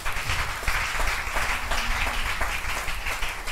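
A church congregation applauds and cheers the name of Jesus Christ during a sermon, a dense, steady wash of clapping that holds for the whole stretch without a break.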